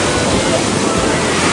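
Loud, steady roar of strong waves crashing nearby on a beach in Italy, a dense wash of noise with no breaks.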